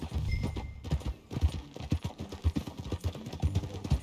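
Horse hooves clip-clopping during a ride in the game Red Dead Redemption 2, a steady galloping rhythm of thuds, close and full, alongside background score and effects.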